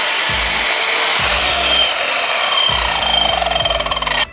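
A hand saw cuts through a floorboard offcut in close, loud rasping strokes, a few slow pushes at first, then quickening into a rapid even rhythm before the piece breaks free.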